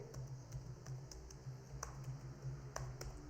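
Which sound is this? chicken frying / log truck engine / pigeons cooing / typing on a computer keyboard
typing on a computer keyboard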